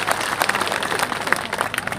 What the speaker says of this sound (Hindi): अध्यक्ष जी के लिए जोरदार ताली बजा के एक बार स्वागत कर लीजिए।